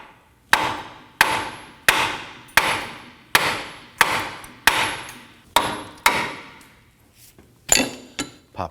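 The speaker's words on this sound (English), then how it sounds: "I'm going to strike the knuckle here" A hammer strikes a Nissan Murano steering knuckle about ten times in a steady rhythm, each blow a sharp, ringing metallic clank close by, with the last few strikes coming more irregularly.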